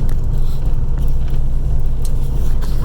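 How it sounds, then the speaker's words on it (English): A truck drives with tire chains fitted, climbing a snowy hill in Colorado, its steady low engine and road rumble continuous and close with a faint rattling shake throughout; no one speaks. "Tire chains shake like crazy with your truck, and we got that going on a little bit here."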